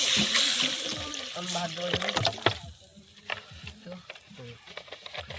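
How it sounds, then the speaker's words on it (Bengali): Water poured into a cooking pot over fried onions, a loud splashing gush at first that fades into bubbling and sizzling, with a voice talking over the later part. "জল দিয়ে দিই, পেঁয়াজ ভেজে নিয়েছি।"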